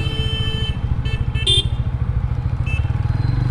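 A TVS Apache RTR 160 4V motorcycle braking hard, its engine rumbling steadily close up with a rhythmic throb and a few brief high squeaks partway through.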